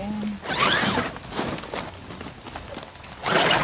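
A zipper is tugged in a few quick rasping pulls, close by, with pauses and light shuffling between strokes.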